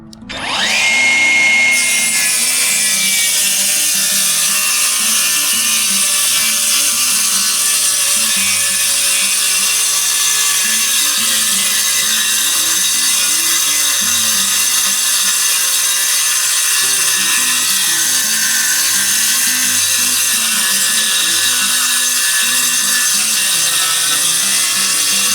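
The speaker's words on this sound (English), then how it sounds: "Easiest way, in my opinion, is just use a circ saw." A circular saw rips lengthwise through a wooden board during carport building, a loud, steady high-pitched whine and cutting roar that starts abruptly and holds unbroken for about twenty-five seconds, close and alone with no voices.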